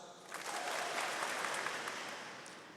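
Graduation ceremony audience at Bishop Grosseteste University claps in a steady, dense wash of applause that swells in and holds for about three seconds before easing slightly.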